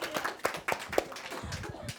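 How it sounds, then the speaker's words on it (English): A few people clapping as a round of applause during a podcast commercial break, irregular close hand claps at a loose rhythm, thin rather than a full crowd, with a faint voice mixed in. "Commercial break, round of applause."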